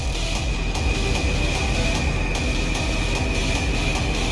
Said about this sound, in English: I'm gonna quickly spawn in a train and attempt to get out of here.